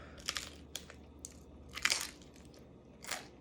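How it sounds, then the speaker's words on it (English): Kimchi pesto cheese toast being bitten and chewed, a few sharp crunches in an irregular rhythm, close and quiet, without talk. "I'm halfway through my kimchi pesto cheese toast."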